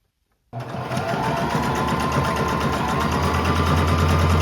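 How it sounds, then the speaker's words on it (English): A sewing machine runs a straight stitch across a rolled hem on the leg of thrifted bloomer shorts, starting abruptly after a short silence and then humming and chattering steadily and loudly, close up, with no talk. "then we'll do a straight stitch across"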